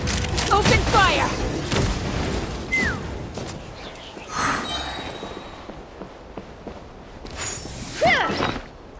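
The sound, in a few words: cannon fire and explosions in the video game Genshin Impact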